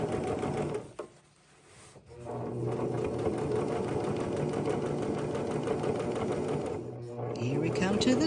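Steady close whirring of a sewing machine stitching a seam on a purse, running continuously with a brief stop near the start and another near the end, loud and mechanical with no talk over it.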